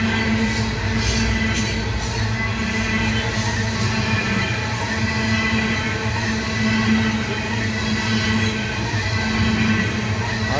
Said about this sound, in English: Sounds like the train is slowing down.